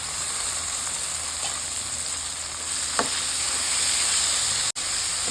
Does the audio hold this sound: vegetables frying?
yes